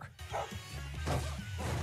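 A dog in a Chipmunks movie scene gives a few sharp barks and yips close by, one with a whimpering edge, over a busy soundtrack background.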